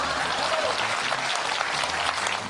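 An audience applauds in a lecture setting, a continuous, even wash of clapping that stays at a steady level throughout.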